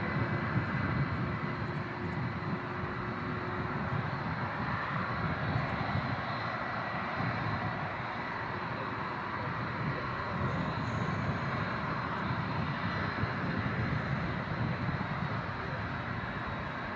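An Airbus A350 taxis at Manchester Airport, its jet engines giving a steady, broad, distant roar that holds evenly throughout, with faint voices underneath.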